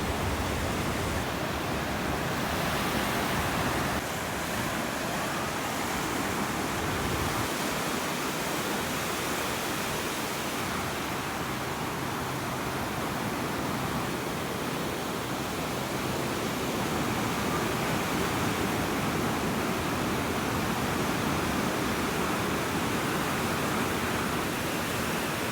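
Ocean waves washing onto the sand at Ocean Beach, San Diego, heard as a steady, broad roar of surf that continues without a break and with no talk.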